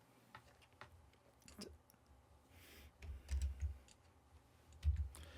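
Computer keyboard keys pressed for Ctrl shortcuts while working in Photoshop: a handful of faint, sparse clicks spread across a quiet room, with soft low thumps and no talking.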